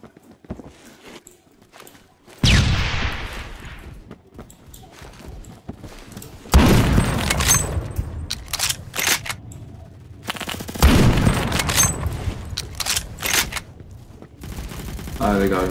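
Three heavy BFG 50 sniper rifle shots ring out in the Phantom Forces shooter game, each loud and booming with a long rumbling tail, spaced several seconds apart, with footsteps and quiet movement between them.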